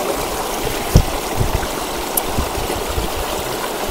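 Water poured over a person during a bath runs in a steady, close trickle, with a few soft knocks and splashes against a quiet background.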